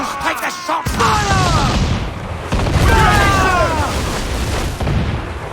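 Cannon fire from sailing ships in Assassin's Creed IV Black Flag: heavy booming blasts and a continuous rumbling barrage, loud and close, with crew voices shouting over the din.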